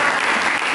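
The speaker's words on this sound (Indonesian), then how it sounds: "Mari kita berikan tepuk tangan bagi" A church congregation at a Christmas service applauds together, a dense, steady wash of clapping that fills the whole short moment at even loudness with no voices over it.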